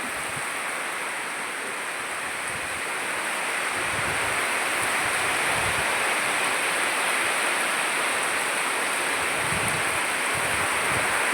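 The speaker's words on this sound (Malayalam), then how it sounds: "മഴ ഇങ്ങനെ ചെരിച്ച് ചെരിച്ചാട്ടോ പെയ്യണത്" Heavy rain driven slantwise by strong wind in Palakkad, Kerala, makes a dense continuous roar that grows slightly louder partway through, with no voices.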